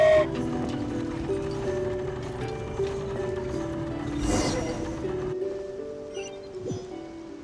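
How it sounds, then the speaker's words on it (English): Mechanical train rattling along in Genshin Impact, a steady clanking, ratcheting run with a continuous low mechanical hum and a brief whooshing swell midway, fairly close and alone. "let's get back down while this train is still working"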